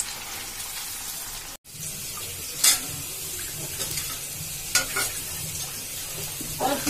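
French fries frying in hot oil give off a steady, close sizzle while they are stirred, and a few sharp scrapes and clinks of the utensil against the pan break through.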